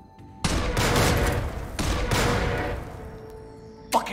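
Desert Eagle pistol fire in the video game Jupiter Hell, several loud heavy booming shots in quick bursts with ringing decay between them, followed by a sharp click near the end and no talking.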